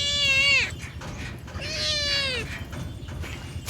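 A cat gives two clear, close meows, the first higher and falling, the second longer and drawn out, with quiet background noise between them.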